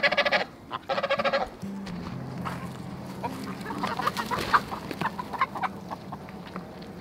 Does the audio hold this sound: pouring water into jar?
no